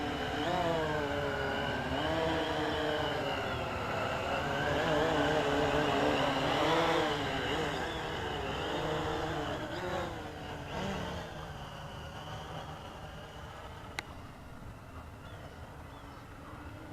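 A Bayang X16 quadcopter hovers in flight nearby, its motors giving off a steady, wavering buzzing whine that rises and falls slightly, with faint outdoor background noise.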